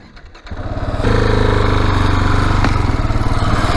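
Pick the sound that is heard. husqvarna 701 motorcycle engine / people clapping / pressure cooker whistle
husqvarna 701 motorcycle engine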